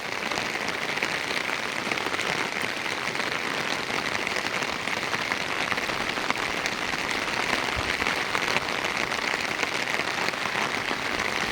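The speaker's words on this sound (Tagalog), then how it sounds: "Grabe talaga yung ulan" Heavy typhoon rain pours steadily onto surfaces in Aklan, Philippines, flooding rice fields, a dense, constant hiss and patter that continues unbroken throughout with no talking.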